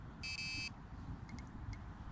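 Electronic fishing bite alarm on a rod set up for river pike with a popped-up ledger rig. It gives one sustained high beep, then a few short chirps, over a steady low outdoor rumble.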